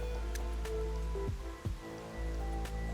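Toxic rain falls on settlements in the survival-building game Endzone 2, a steady soft patter of raindrops with a few faint clicks and thuds beneath it.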